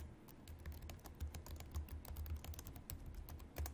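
Rapid, close typing on a computer keyboard as a search phrase is entered, with quick irregular key clicks running continuously and no talk.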